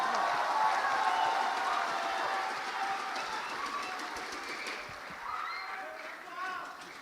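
Audience at a Qur'an quiz final in an arena claps together, a steady moderate roll of applause that gradually softens, with faint voices and background chatter mixed in.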